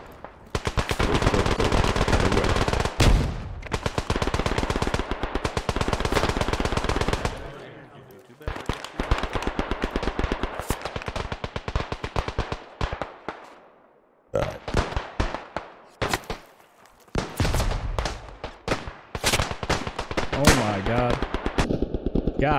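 Rapid bursts of automatic gunfire and rifle shots in the first-person shooter game Beyond the Wire, loud and dense volleys broken by short pauses and occasional quieter gaps.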